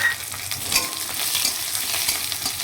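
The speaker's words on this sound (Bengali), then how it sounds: "এগুলো একটু ভেজে নেব।" Dried chillies, ginger and garlic frying in a little oil in a wok, a close, continuous sizzle and crackle with no voices over it.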